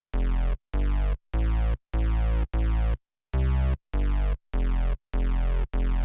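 Layered synth bass combining a distorted sine sub with a filtered saw, playing ten sustained notes in a steady rhythm with short gaps, clean and alone, each note cutting off sharply.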